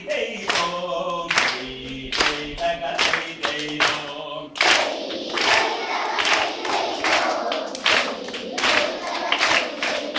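Hands clap in a steady rhythm alongside voices chanting a Kerala Onam folk song together, the sharp claps repeating evenly and up close throughout.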